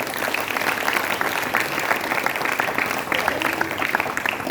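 Audience at a Jain trust seminar gathering in a hall applauds loudly and steadily, dense clapping filling the whole stretch without pause.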